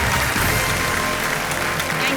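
Studio audience applauding on the KBC game show set, a dense, steady wash of clapping filling the whole moment at full loudness without a break.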